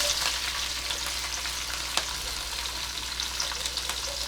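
Capsicum sautés in a pan for a bisi bele bath, giving a soft, continuous sizzle with light scrapes as it is stirred. The sound is close and there is no talking.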